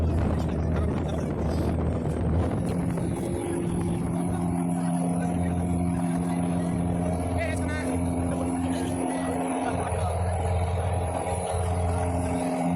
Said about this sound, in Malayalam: ഇപ്പം സ്പീഡിന് പോയിക്കൊണ്ടിരിക്കുക ബോട്ട്.